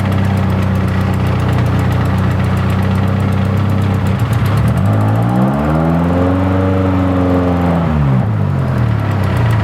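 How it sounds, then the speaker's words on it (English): A Nissan 240SX engine with a charging problem drones loudly, then revs up with a rising and falling pitch before settling back to idle. "I'm gonna give it some revs"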